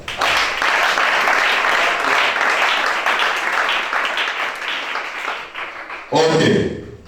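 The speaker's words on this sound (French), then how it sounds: "Acclame pour Jésus." Church congregation at a Gabonese worship service breaking into sustained, loud applause that fills the room for about six seconds, then a sharper burst of clapping and cheering near the end.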